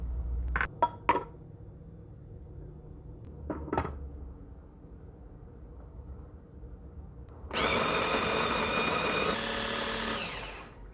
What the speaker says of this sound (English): Right now I'm going to blend all the spices first guys.